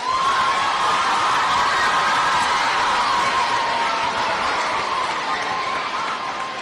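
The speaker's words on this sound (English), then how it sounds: "give the fifth graders one more round of applause?" Fifth graders at a moving-up ceremony get a loud, sustained round of crowd applause and cheering, with some shouts and laughter mixed into the steady roar.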